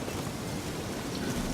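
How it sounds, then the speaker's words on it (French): Rain beginning to fall in The Witcher 3, a steady, dense hiss of rainfall filling the scene evenly without pauses, moderately loud and with no voices. "Il va pleuvoir."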